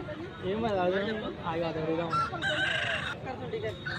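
A rooster crows loudly and close by at a Nallapadu poultry market, with one long, wavering call and a shorter one, while people talk nearby and market chatter continues throughout.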